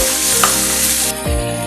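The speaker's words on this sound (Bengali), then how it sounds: "এখানে আমরা এটাকে ফ্রাই করে নিচ্ছি" Bone-in chicken frying in a pan as the first step of a chicken stew, a steady close sizzle with a faint stirring clatter and a brief clunk near the end, no talk.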